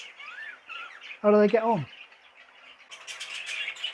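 Young birds in a cage chirp and squawk nearby, with thin high calls and a brief loud harsh squawk, while someone talks over them.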